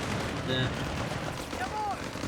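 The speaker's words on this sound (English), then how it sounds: "Heavy automatic fire there" Heavy automatic gunfire from a Company of Heroes 3 battle in the North African desert, a steady dense rattle of weapons under continuous game noise, with a voice talking over it.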